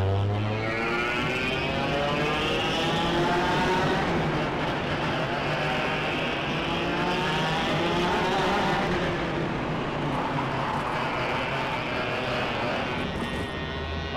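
Race cars in a video game race, a loud continuous engine drone with several cars revving and shifting together, steady throughout with no voices.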